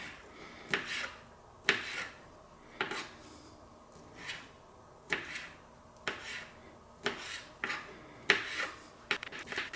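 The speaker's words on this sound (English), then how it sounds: "take the shrimp and just cut it into very small pieces. So basically we're dicing the shrimp." A knife dices shrimp into small pieces on a cutting board, giving about a dozen crisp chops in a steady, unhurried rhythm, close and clear with no talking.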